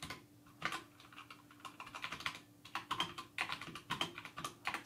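Typing on a computer keyboard while entering Python code for an OpenCV filter example: quiet, irregular bursts of close key clicks with short pauses, alone with no voices.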